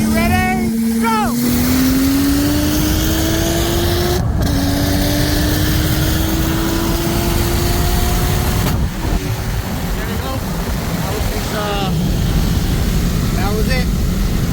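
A single-turbo 1995 Toyota Supra on E85 races a bolt-on 2020 BMW M8 Competition at high speed, with loud, sustained engine drone and rising pitch as it accelerates through the gears. Wind roar sits underneath and voices talk over it.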